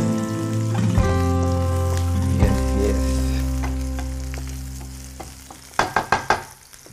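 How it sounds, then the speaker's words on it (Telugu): Onions and garlic frying in melted butter for chicken alatur make a steady, close sizzle throughout, with a few sharp crackling pops and spatters near the end. "Now it's time to add onions going in. దాంతోపాటు వీ హ్యావ్ గార్లిక్ కూడా, సో దాన్ని కూడా వేసేద్దాం."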